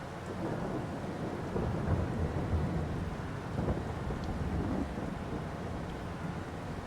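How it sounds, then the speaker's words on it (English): A thunderstorm rolls over a cornfield in Farming Simulator 22, with steady rain and low rumbling thunder making a continuous, moderately loud wash and no speech. "And it is raining."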